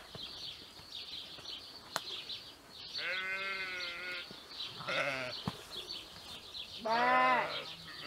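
Sheep bleating in a field, with three wavering calls spaced a couple of seconds apart, fairly close and clear, over a faint outdoor background with high chirps.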